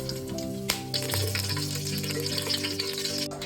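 Cumin seeds sizzle in hot coconut oil and ghee in a pan for chicken biryani, a continuous crackling fry with a sharp pop near the start, steady and close, with no talking.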